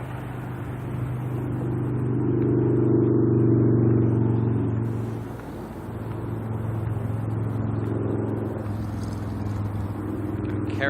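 An ATR turboprop airliner heading off to Napier from Auckland Airport, its propellers spinning, gives a steady low droning hum. The hum swells for a few seconds, dips briefly, then carries on at a constant level.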